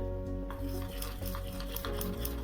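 Uttapam batter stirred together with fruit salt in a bowl, a steady close scraping and swishing of a spoon with soft clinks against the bowl, over a constant low background hum.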